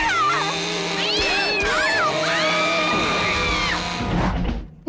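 A cartoon cat meows in a string of loud, stretched, sliding cries, close and expressive, with a short gap partway through before the calls trail off at the end.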